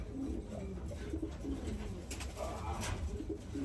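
Pigeons coo repeatedly inside a breeding loft, soft throaty calls overlapping at close range over a steady background hiss.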